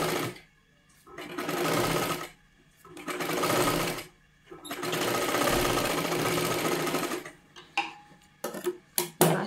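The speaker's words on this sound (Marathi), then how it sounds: "आता ह्याच्यावरती अजून एक आपल्याला डबल शिलाई मारून घ्यायची आहे" Sewing machine double-stitching a seam on a size 36 katori blouse, running in three sustained loud bursts with short pauses, then a series of quick stop-start stitching spurts at the end, with no voices.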